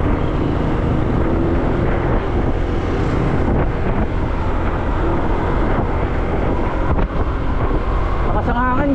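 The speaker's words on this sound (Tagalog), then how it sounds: "Malakas ang hangin." Strong wind roars steadily across the microphone during a motorcycle ride on a road toward Tanauan, Batangas, a continuous broadband rush that fills the whole stretch.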